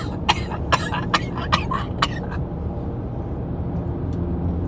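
A rapid series of five or six sharp coughs close to the microphone over a low background rumble, then quiet.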